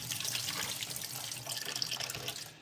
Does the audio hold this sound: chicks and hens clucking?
no